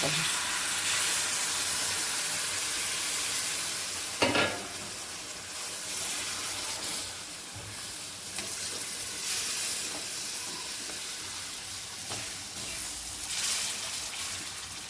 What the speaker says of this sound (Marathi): कारण आता हे मसाला मी तिथं फ्राय करायचे